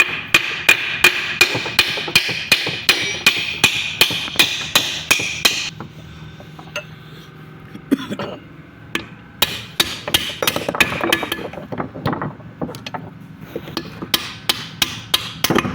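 Light, evenly spaced hammer taps on a power tiller gearbox while knocking out its shaft, about two strikes per second for several seconds, then sparser irregular metallic knocks and handling clatter.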